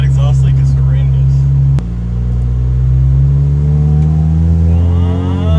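A car engine with an exhaust leak idling and revving with a loud, rough, rumbling exhaust note and a raspy, leaky tone, steady and close throughout.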